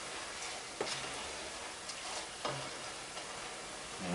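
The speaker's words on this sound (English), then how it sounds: "These chips are really frying very well, pretty good." Homemade potato chips frying in hot oil, a steady close hiss of sizzling with a few faint clicks from stirring, no voices.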